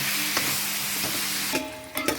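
Vegetables, including napa cabbage, and minced pork are stirred and folded together in a pot for a mixed-vegetable soup, giving a steady wet sizzling churn with a few scraping knocks of the utensil.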